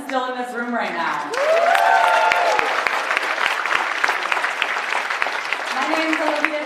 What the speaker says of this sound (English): let's just give a round of applause for everyone that's still in this room right now.